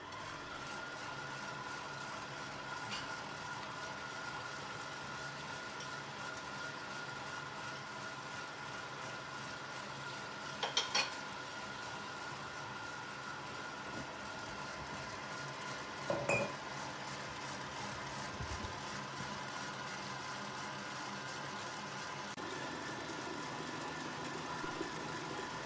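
An electric mixer beats egg whites to soft peaks for Italian meringue buttercream, a steady low motor hum running the whole time with a few brief clinks of the bowl or utensils.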